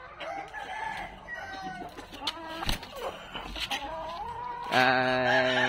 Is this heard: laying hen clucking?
yes